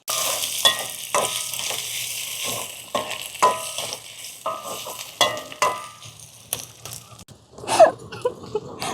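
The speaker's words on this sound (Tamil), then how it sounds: "இப்போ நல்லா நிறைய வெங்காயமும் பச்சை மிளகாயும் போட்டு வதக்கி கொண்டிருக்கிறேன்" Onions and green chillies fry in oil, sizzling steadily while a spoon scrapes and stirs the pan in repeated short strokes, close and fairly loud.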